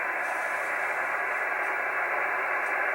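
An Icom 730 radio tuned to the 80-meter band on an outdoor antenna gives a steady hiss of static, loud and unbroken, with no clear voice coming through.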